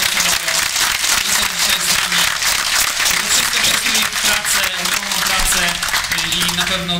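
An audience at a Warsaw political rally applauds a young orchestra with loud, sustained, dense clapping, and voices call out over it throughout.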